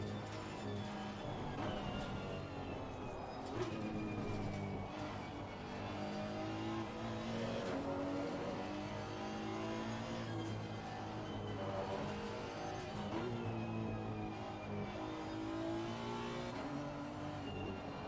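Honda NSX GT3 race car at Suzuka in a racing game: a steady, loud engine drone with rising and falling revs through gear changes, continuous throughout with no talk.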